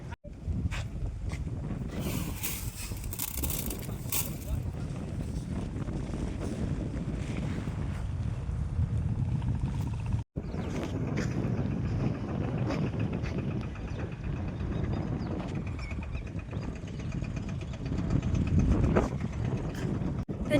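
Strong wind blows steadily across an open farm field, a loud, continuous rushing buffet against the microphone lasting the whole stretch with no talk.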